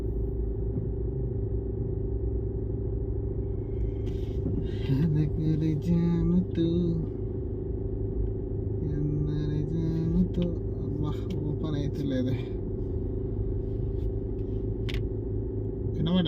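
Stalled traffic in a jam: a steady low engine rumble from idling vehicles surrounds the listener, with someone talking close by over it.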